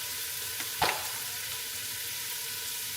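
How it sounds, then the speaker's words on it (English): Red beans and rice ingredients sautéing in a pan give off a steady, fairly faint hiss, with one brief stirring scrape near the start and no voices. "we're gonna saute this up"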